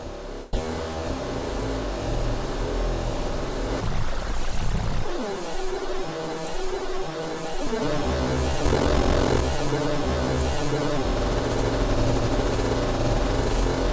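A granular-engine synth patch from the Sample Alchemy instrument in Logic Pro for iPad, a dense, continuous droning texture with shifting grainy tones and a dip in the middle, playing loud and alone.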